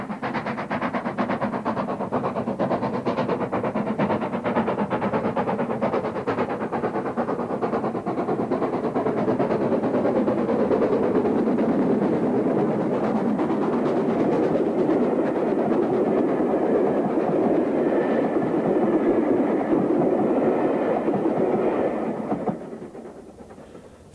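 LNER Director class steam locomotive 62660, in British Railways black lined livery, running with a train: a sustained loud rumble and rhythmic chuffing that builds, holds steady, then fades away near the end.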